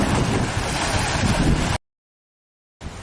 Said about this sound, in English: There's some more wave action here on this windy day.